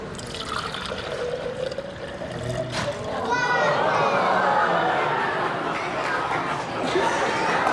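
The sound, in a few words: water being poured into a cylinder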